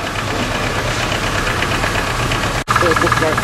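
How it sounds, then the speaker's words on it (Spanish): Kubota engine running with the hood closed, a steady knocking idle heard up close, with a short dropout and some faint background sounds toward the end. "Y ruido a capota cerrada."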